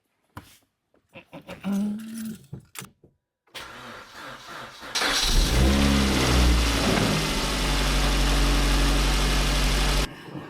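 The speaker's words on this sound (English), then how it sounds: "we'll jump in and start the car" Some clicks and handling noises, then a Suzuki Swift Sport track car's engine cranks and catches, settling into a steady loud idle that continues before cutting off.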